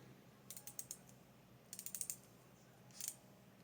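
Rapid metallic clicks of a ratcheting tap wrench, heard in three short bursts of several clicks each, close and fairly quiet with no talking.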